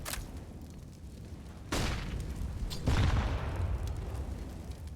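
Grenade explosions in Counter-Strike on the Inferno map during an esports match: two loud, close blasts land about a second apart over a steady bed of game noise, the second one heavier and longer.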